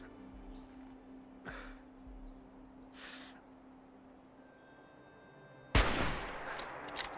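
A few sharp gunshots from a shooter in a video game, two muffled bursts early on, then a loud close crack followed by scattered rattling shots over a quiet ambient hum.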